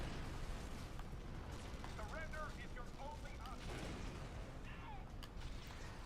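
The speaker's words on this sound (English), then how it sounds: "There's a nice satisfying rumble with this rocket launcher as well." Rocket launcher blasts and a low rumble in Red Faction: Guerrilla, a steady dense roar of explosions and debris running throughout, with a voice talking over it.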